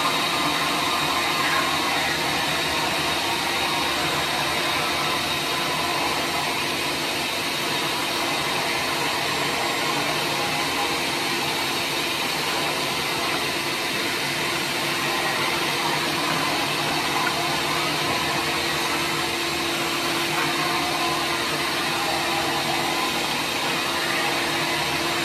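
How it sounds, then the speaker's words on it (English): Shop vac sucking up dust through a Dustopper bucket on a workbench, a loud, constant roaring whoosh that holds steady throughout with no pauses or voices. "We're gonna suck all that up. We're gonna see how much is in the bucket and how much is in the shop vac."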